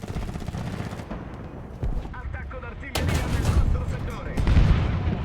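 Artillery and cannon fire in War Thunder booms and rumbles across a battlefield, with heavy impacts and gunfire layered over a constant engine drone, loud blasts landing near the end.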